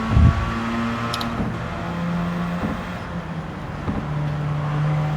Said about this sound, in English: we have upgraded our car to RX-7, which is a 460 performance points car